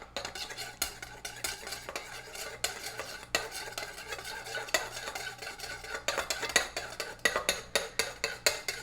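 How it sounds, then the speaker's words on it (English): A spoon stirs and scrapes a Thousand Island dressing–based sushi sauce in a bowl, producing steady close clinks and swirling scrapes with a repeating rhythm, no talking. "now let's go ahead and stir this up"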